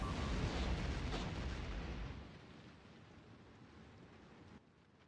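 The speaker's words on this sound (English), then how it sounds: "Why is the railgun able to shoot?" Factorio's railgun fires with a heavy, booming blast that rumbles and fades over a couple of seconds before a second softer drop in the tail, faint and without talk.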